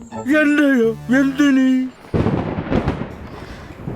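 Someone speaks briefly, then a deep rumbling crash of thunder rolls in and lingers, broad and fairly loud.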